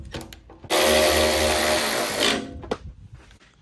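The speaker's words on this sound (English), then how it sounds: "Now I'm going to use my electric ratchet and just get them snug." An electric ratchet snugs 10mm bolts on the airbox of a 2021 Honda CB650R during an air filter swap: a loud, close, continuous whirring burst of about two seconds, with faint handling clicks before and after.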